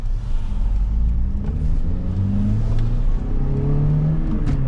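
A Toyota Matrix engine, apparently running without an exhaust, revs and idles nearby, its low rumble rising and falling in pitch across several throttle blips.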